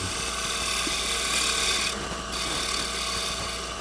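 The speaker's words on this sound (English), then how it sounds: "You can see I'm getting little shavings just like you do in shear scraping." A hand scraper shear-scrapes a metal surface at a 45-degree angle, a steady, close, continuous rasping rub that holds without pause and eases slightly near the end.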